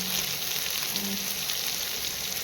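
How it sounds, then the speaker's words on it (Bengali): Potatoes, onions and pointed gourd frying in a pan give a steady, soft hiss of oil with no breaks, held at an even moderate level throughout. "আলু পেঁয়াজ আর পটল আমাকে পুরোটাই লাল লাল করে ভাজতে হবে ভালো করে"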